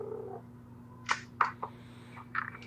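A house cat purrs in a low, steady drone close by. Several short, sharp clicks and rustles break in over it, and nobody speaks.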